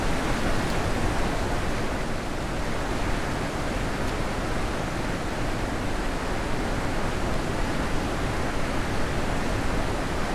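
Steady, full roar of a waterfall in the video game The Witness, continuous and unbroken with no pauses or voices.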